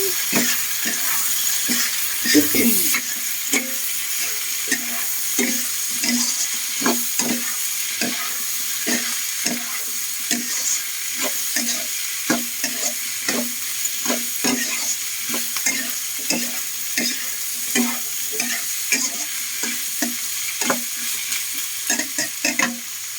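Coconut heart of palm (ubod ng niyog) sautéing in a pan for lumpia filling, stirred with a steady rhythm of scraping utensil strokes over a continuous sizzle, close and fairly loud, with no talking.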